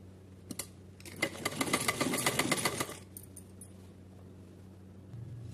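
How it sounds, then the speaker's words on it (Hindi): A sewing machine runs a straight stitch line through fabric, a rapid mechanical chatter lasting about two seconds, framed by a few soft clicks of handling. "सीधी सिलाई लगाएंगे"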